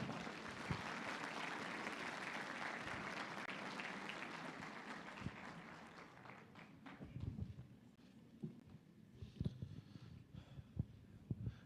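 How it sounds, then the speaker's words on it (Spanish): A church congregation at an evangelistic campaign meeting applauds loudly to welcome a pastor. The steady clapping thins out after about six seconds into scattered individual claps and light taps. "Vamos a recibirle con fuertes aplausos"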